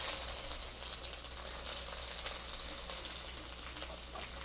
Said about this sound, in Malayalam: ഇതിലേക്ക് പാവയ്ക്ക നുറുക്കിയത്.